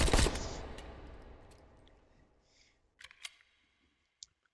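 A Browning Hi Power pistol in the VR game H3VR fires one loud, close shot that rings out and fades over two seconds, followed by a few sharp metallic clicks of the slide and handling.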